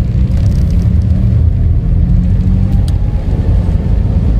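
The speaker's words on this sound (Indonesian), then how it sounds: "Udah hijau, oper 1, handbrake lepas, tengah kopling gas-gas yuk." Datsun Go Plus car driving on the road, heard from inside: a loud, steady low engine and road rumble fills the cabin and holds constant throughout, with no gear shift standing out and no speech.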